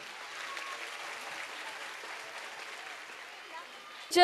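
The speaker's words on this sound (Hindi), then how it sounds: "तालियां हो जाए इन सारे बच्चों के लिए" Audience applause for children at a school annual day performance, a steady broad wash of clapping from a crowd that holds throughout, with a voice-like burst at the very end.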